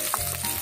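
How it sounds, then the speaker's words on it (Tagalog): Onions sautéing in a pan for a home-style chicken tinola, a steady close sizzle and frying crackle running alone without talk. "Kailan natin mag-brown ang sibuyas"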